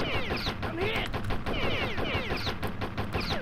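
Machine gun fire in the video game Postal, rapid bursts of shots repeating steadily over a busy game soundscape of effects.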